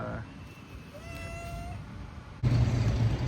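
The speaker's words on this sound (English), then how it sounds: "I think I'm being surrounded by all these cats" Cats meowing on a street in Puerto Vallarta, Mexico: one drawn-out meow rises clearly over faint street ambience, then a louder burst of nearby noise cuts in.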